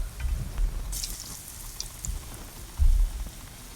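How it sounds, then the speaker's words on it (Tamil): Bajji fritters of gram-flour batter drop into hot oil and crackle in short bursts of sizzle and spatter, with a brighter hissing flare near the middle, close and fairly quiet, with no voices. "இப்போது பஜ்ஜியை போட்டு நம்ம ஃப்ரை பண்ணி எடுத்துடலாம்"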